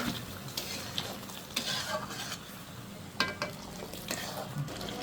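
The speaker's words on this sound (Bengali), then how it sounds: "করে কষা নিচ্ছি মশলার সাথে এখানে গরম তেল দিয়ে দিব" Hot oil hisses over spices for a chicken kofta curry as they are stirred in the pan, a soft, even sizzle with repeated scraping strokes and light utensil knocks, fairly quiet and close, without speech.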